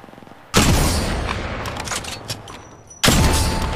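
Gunfire in Apex Legends Mobile erupts in two loud, abrupt bursts of rapid shots, each starting suddenly and ringing out before fading, close and dominant with no talk.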